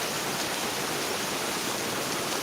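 Steady downpour of heavy rain fills the air with a thick, even roar that holds unchanged from start to end, near and without speech.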